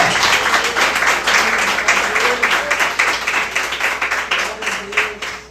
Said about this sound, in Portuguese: Você pode aplaudir ao Senhor nessa manhã.